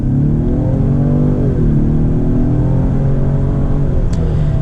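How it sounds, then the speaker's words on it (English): A 2020 Ford Explorer accelerating hard in sport mode, its engine note loud and close, climbing in pitch, dipping briefly at a shift, then pulling strongly upward again. "And you can see it accelerates very, very quickly."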